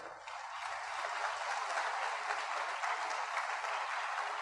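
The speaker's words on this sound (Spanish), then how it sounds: "Y denle un aplauso fuerte al Señor." A church congregation gives a sustained round of applause for the Lord, a steady, fairly faint wash of many hands clapping heard from a distance, with no talk over it.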